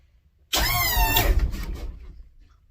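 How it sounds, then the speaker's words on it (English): Hydraulic switch kicking on the front hydraulics of a juiced minitruck running 36 volts on three batteries, a sudden loud whirring motor burst that holds steady for about a second, then fades and tapers off. "I'm going to hit the front hydraulic switch up."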